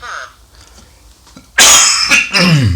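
A single loud, harsh cough up close with a throaty follow-up burst, preceded by a quiet moment.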